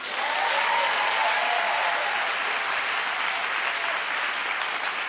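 Steady, loud applause from a television talk show studio audience, a dense continuous wash of many hands clapping that holds evenly throughout with no speech over it.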